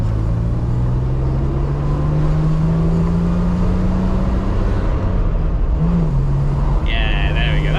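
A 1967 Jaguar S-Type's engine pulls hard in second gear with a steady, rising drone that climbs in pitch, loud and close inside the cabin, with a brief dip before the note settles again.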